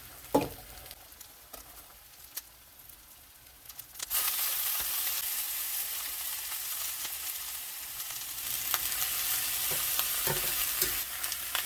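Broccoli hits a pan with leftover fried chicken and olive oil: quiet scrapes at first, then a sudden loud, steady frying sizzle that carries on with occasional clicks, no voices.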